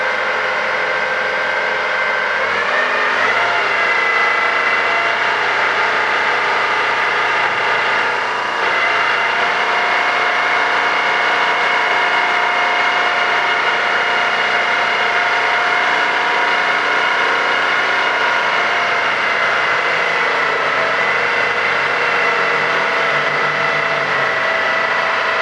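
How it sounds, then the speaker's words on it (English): A vehicle engine runs steadily in an industrial setting while a traction motor is moved around, a continuous, fairly loud drone with a slight rise near the start and no talking. "Heading around to the left with the traction motor."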